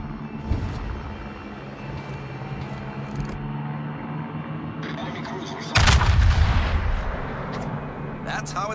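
Naval gunfire from a World of Warships battle booms and rumbles, with heavy salvos and a loud blast near the middle over ongoing battle noise and game sounds.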